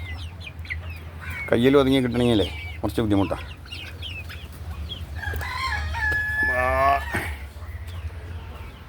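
Fayoumi chickens crow loudly twice near the start and again later, with scattered clucks in between, close by under a man's speech.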